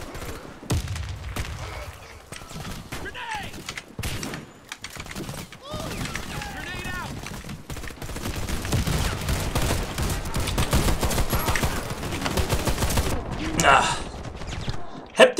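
HCAR automatic rifle firing in the shooter game Warface, with bursts and rapid gunshot volleys in close succession, mechanical clicks between them, and someone talking over the gunfire.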